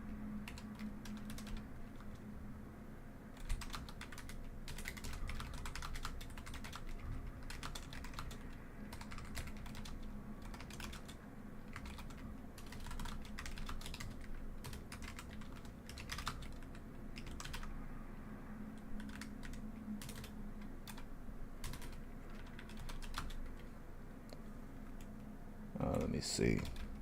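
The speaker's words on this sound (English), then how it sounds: "I'm typing out everything that I need to type out" Steady keyboard typing runs throughout, a dense patter of clicks with brief pauses, close by, with faint talk occasionally underneath.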